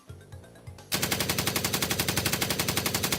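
Rapid machine gun fire bursts in a fast, even rhythm of loud repeated shots, preceded by a few softer thumps, close and dominant with no talking.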